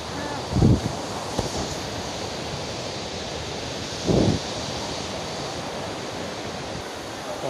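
Steady broadband rush of water at Kuang Si waterfall in Luang Prabang, where people are swimming, a continuous roar with wind buffeting the microphone and two brief louder thumps.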